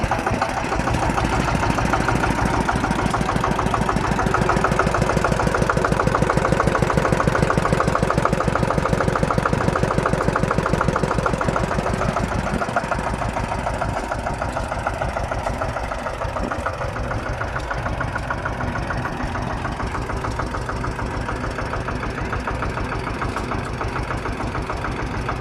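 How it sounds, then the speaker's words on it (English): A small German diesel tractor idles steadily at a steam-era show in Canada, its loud, close, even knocking chug running without pause and with no voices over it. "This is his lovely little German diesel tractor."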